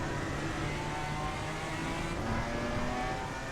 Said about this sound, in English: Sounds like a Porsche Cup car there.